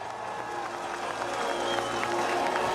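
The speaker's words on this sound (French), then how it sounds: "Les supporters français sont fair play. Johannes Bö est applaudi sur cette première marche du podium." French spectators at a biathlon sprint podium in Le Grand-Bornand applaud the winner, a steady wash of clapping and crowd noise that swells slightly toward the end, fairly close and continuous.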